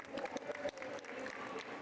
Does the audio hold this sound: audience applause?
yes